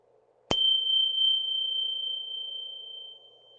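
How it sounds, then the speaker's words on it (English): A meditation bell is struck once, its sharp attack fading into a long, pure, steadily decaying ring over a faint background hum. "As I ring the bell, just listening to the beginning and middle and end sound of the bell."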